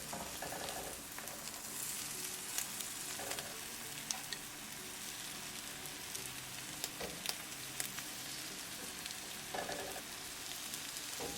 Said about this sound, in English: So we're going to cook on this side also on 2 minutes.